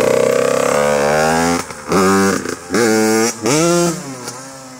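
A Yamaha YZ 85 dirt bike with a fresh top end revs hard, loud and near, in several blips: a long climbing rev, then short repeated bursts with brief drops between, no talk over it.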